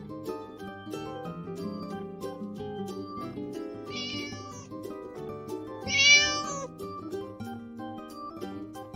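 Two distinct cat meows, the second louder and longer, ring out over a bright, steady nursery rhyme musical backing.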